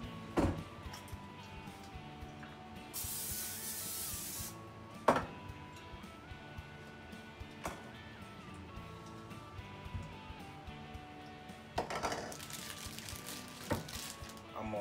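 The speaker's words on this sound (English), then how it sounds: "I'm finna spray the pan with Pam." A short hissing spray of Pam cooking spray onto a pan lasts a second or two, amid quiet kitchen clatter and a few knocks.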